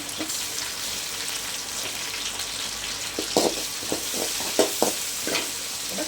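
Finely chopped tomatoes sizzle steadily in a hot pan for a Tamil lentil dumpling curry, with a constant frying hiss and a series of close scraping stirs in the second half.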